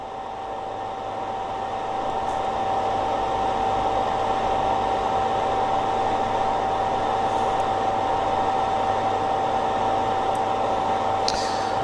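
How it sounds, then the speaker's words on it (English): A solder fume extractor fan runs loud and close, a steady whooshing airflow with a constant whine, spinning up in the first couple of seconds and then holding unchanged. "So I'm going to put the fume extractor on."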